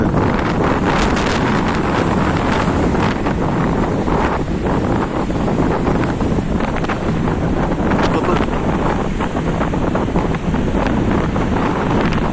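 Loud, constant wind from a storm in İzmir roars and buffets the microphone, with crashing water and surf mixed into the steady stormy rush.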